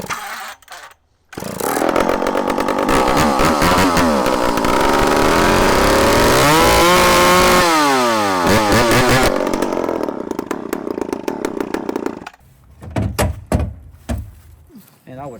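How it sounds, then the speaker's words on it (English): A 1972 logger's chainsaw, kept as an old woodsman's last saw, starts after a brief pause and runs loud and close with a harsh buzzing roar, revving up and down before cutting out, followed by clattering handling noises. "It still runs, though."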